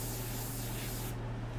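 An airbrush sprays ink onto paper in a steady, even hiss lasting the whole moment, with no talking.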